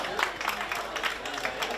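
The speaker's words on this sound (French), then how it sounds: "on peut applaudir Amy aussi" A crowd applauds in bursts of rhythmic clapping at a chef's chocolate demonstration during the Passion Chocolat 2024 event, steady and fairly close, with a voice over it.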